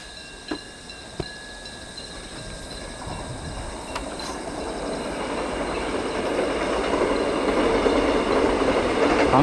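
A passenger train runs along the line to Chuncheon in the countryside, its rumble building steadily from quiet to a broad, loud roar, with a couple of sharp clicks near the start and a faint insect hum beneath.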